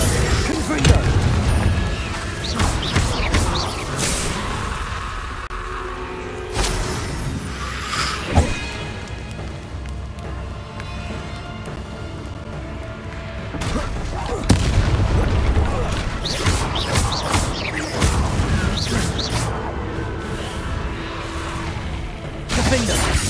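Spell effects from the Hogwarts Legacy video game, Descendo and Confringo, produce repeated booms, crashes and blasts in dense, loud bursts with a voice talking over the combat.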